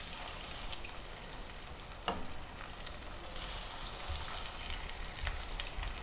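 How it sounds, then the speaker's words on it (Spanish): Fish fries in very hot oil, giving a dense, steady crackling sizzle throughout, with a brief sharper pop partway through and no talking. "Con el aceite bien caliente vamos a freír el pescado."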